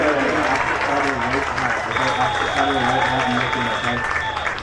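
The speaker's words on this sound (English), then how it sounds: "give a huge Bulldog round of applause to Cheryl Morgan" Crowd applause at a college football home game against Albion, honoring Cheryl Morgan: a dense, steady wash of clapping from a large stadium crowd, with voices and a sustained tone running through it.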